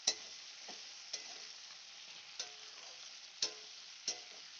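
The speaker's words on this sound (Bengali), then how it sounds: "আমি ভালো করে ফ্রাই করে দেবো।" Flat beans, potatoes and eggplant fry in a pan with a soft, steady sizzle, while a utensil scrapes and taps in the pan about once a second, faint and close, with no talking.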